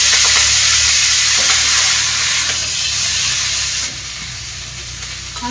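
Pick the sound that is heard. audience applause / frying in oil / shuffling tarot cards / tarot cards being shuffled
frying in oil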